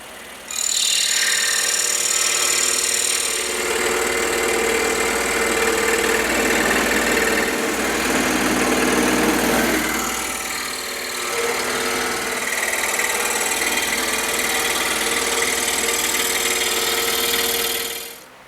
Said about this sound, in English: we're going to take it over to the scroll saw and we'll cut these out